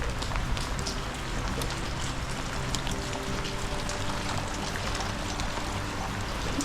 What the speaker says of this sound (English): It's chucking down with rain, and I'm standing there getting wet